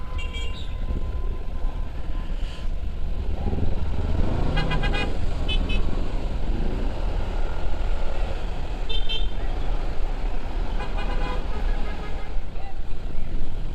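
A Honda Click 125i scooter rides through heavy evening Christmas-season traffic near a new flyover in Molino, Bacoor, with constant engine and road noise and several short horn toots from surrounding vehicles.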